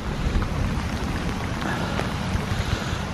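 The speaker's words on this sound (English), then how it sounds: "It's just the rain. It's just got so hard." Steady, dense rain roaring without a break, a thick wash of noise with no voices, close and loud throughout.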